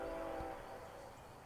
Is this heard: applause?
no